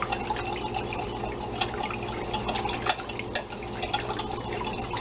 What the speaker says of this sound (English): And we've got our 3/4 cups of milk. Stir that all together here.